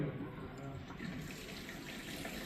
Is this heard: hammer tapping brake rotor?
no